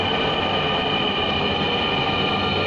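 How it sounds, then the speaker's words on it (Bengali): A crowded Dhaka metro train pulls into the station, a steady loud rumble and hum of the carriages braking close by, continuous and without talk. "তো এই মুহূর্তে ট্রেন আসলো, আর লাইনে দাঁড়িয়ে আছি, ট্রেন থামতেছে।"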